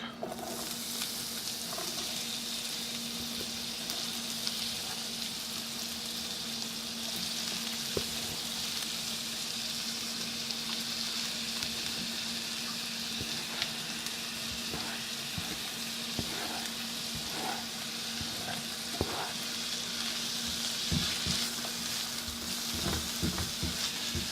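Onions and garlic sizzle steadily in a hot cast iron pan, a continuous crackling hiss with occasional scrapes and taps of stirring, under a faint hum.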